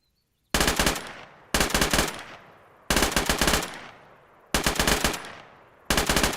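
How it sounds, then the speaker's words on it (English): AR rifle fired in rapid bursts during counter-ambush training, five loud close volleys of quick shots, each separated by about a second of silence. "No, yeah, the AR. Oh, the AR."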